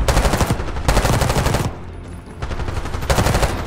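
Automatic gunfire in the Black Ops 6 campaign, close and loud, in two long bursts separated by a brief lull and followed by a shorter third burst.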